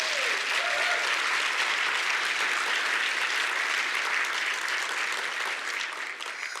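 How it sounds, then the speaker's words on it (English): A community town hall audience applauds a panel, sustained, full-room clapping holding steady for several seconds before easing off slightly at the close. "Can we give that panel another round of applause?"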